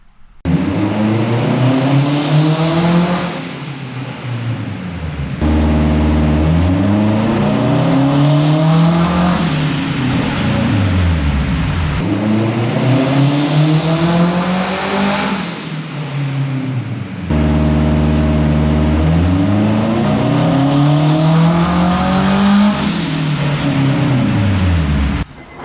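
A turbocharged Acura RSX with a quarter million miles revs hard on a tuning pull. The engine climbs loudly through four repeated rising sweeps, each cutting off sharply before the next, with no talk.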